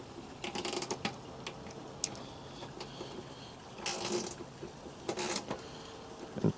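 A wrench tightening a nut while a gas hood strut is fitted to a Honda CR-V RD1, giving quiet, close, irregular ratcheting clicks and small mechanical clatters, with no speech.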